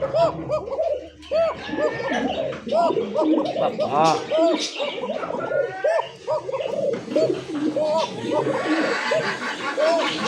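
Shalik pigeons at a pigeon farm coo steadily and overlap in a busy chorus, with occasional chirps among them and people talking close by over the birds.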